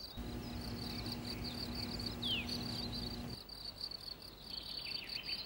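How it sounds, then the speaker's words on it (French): Male field crickets chirp steadily from their burrows outdoors in a dense, high trilling pulse that continues throughout, with a brief faint bird call in the background. "Il n'y a qu'un grillon par terrier, mâle ou femelle, et ce sont uniquement les mâles qui chantent."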